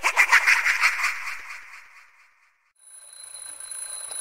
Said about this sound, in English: Press E to turn off alarm.